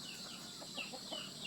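A gamecock, a fighting rooster, gives soft, faint clucks in short broken bursts against a quiet hiss of background noise.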